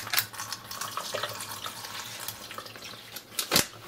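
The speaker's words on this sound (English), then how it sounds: "I'm gonna pour this into a colander." Water drained from tofu pours into a colander, a close continuous splashing trickle with a couple of sharper splashes and clinks near the start and end.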